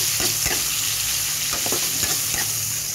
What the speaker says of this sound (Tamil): தக்காளி எல்லாமே நல்லா வதங்கட்டும்